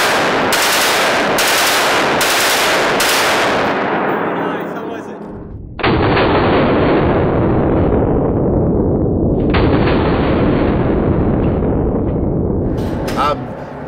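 Gunfire at an outdoor shooting range in Las Vegas, including a large-calibre .50 gun: a rapid string of loud, sharp shots, then a pause and two heavy booming blasts with long rumbling decays, followed by a final crack.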